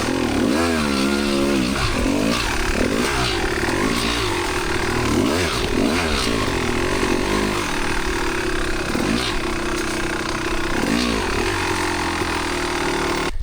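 A 25-year-old Kawasaki KX250 two-stroke dirt bike engine comes to life and is blipped repeatedly. It gives loud, close, rising and falling revs with a raspy buzz throughout.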